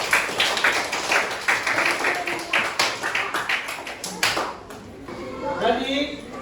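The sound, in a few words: class clapping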